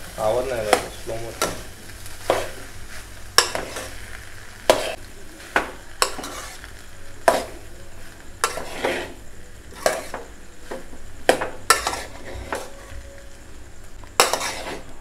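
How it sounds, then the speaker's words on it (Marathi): Tempered rice (phodnicha bhaat) being sautéed in a pan, a soft ongoing sizzle punctuated by frequent sharp spatula scrapes and taps against the pan, close and rhythmic across the whole stretch. "तर चांगला मी परतून घेते, चांगला परतून घेऊया।"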